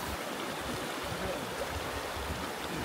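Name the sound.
spring-fed stream flowing in Iceland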